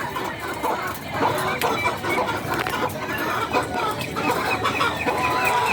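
A flock of egg-laying hens clucks continuously at moderate distance, with overlapping calls over farm background noise.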